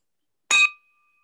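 A single small bell rung for the North Salem High Athletic Department gives one bright, clear ding with a short ringing tail, alone in silence.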